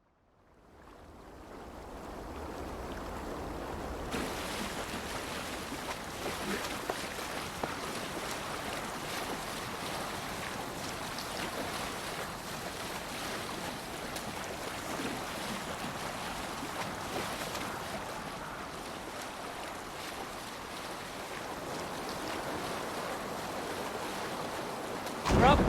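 Viking longship under sail at sea in Assassin's Creed Valhalla: a steady rush of wind and water runs through the whole stretch, with waves washing against the hull and faint voices now and then underneath.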